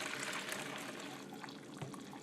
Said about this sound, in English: Someone suggested pouring the water into another container.